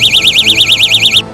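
A burglar alarm on a car escape multi-tool sounds a loud, close, rapidly warbling electronic siren that wavers up and down steadily before cutting off abruptly.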